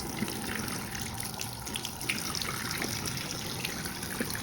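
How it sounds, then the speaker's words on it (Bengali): Water runs steadily from a tap as a baby rinses her mouth while brushing her teeth, a continuous faint splashing hiss with small irregular spatters, close by and fairly quiet. "কলটা বন্ধ করো।"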